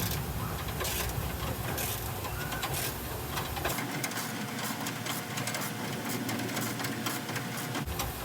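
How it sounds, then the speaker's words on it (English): A long bolt being run in with a power tool on a junkyard Caprice Classic hood fitted to an Impala SS, a steady whirring drone that drops in pitch partway through. "stripping or tightening, Manny?"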